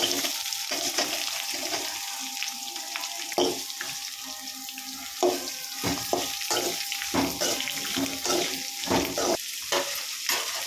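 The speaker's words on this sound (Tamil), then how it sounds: "வெங்காயம் நல்லா இந்த அளவுக்கு வதங்கணும்" Chopped onions and garlic sizzle steadily in a pan for chow chow chutney, with a spoon scraping and clinking against the pan at irregular intervals.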